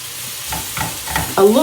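Ingredients for a Mexican taco-seasoned chicken dish sauté in a pan, with a steady sizzle and repeated stirring scrapes, and a louder burst of sizzling near the end; no talking.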